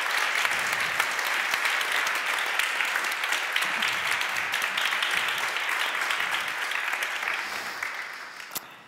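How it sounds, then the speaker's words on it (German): Sustained applause from a conference hall audience on a main stage, dense even clapping at close range that holds steady for several seconds and gradually tapers off at the end. "ich würde dir vorher auch gerne nochmal einen Applaus hier im Saal geben"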